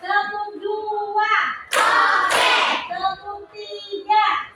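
Schoolchildren in a classroom clap along in a counting routine led by a teacher, a short burst of clustered hand claps between stretches of the teacher's speech.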